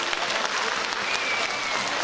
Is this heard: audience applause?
yes